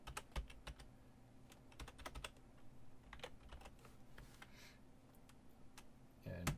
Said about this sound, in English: Now we're going to type it in